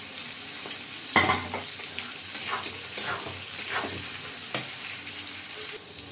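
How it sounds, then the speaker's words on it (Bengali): Onions sizzle in hot oil in a pan for chilli chicken, a steady frying hiss broken by several sharp stirring scrapes. "পেঁয়াজগুলো দিয়ে দিলাম পেঁয়াজগুলো হালকা ভাজা ভাজা হলে"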